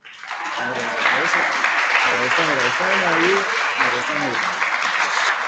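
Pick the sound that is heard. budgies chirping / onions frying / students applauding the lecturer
students applauding the lecturer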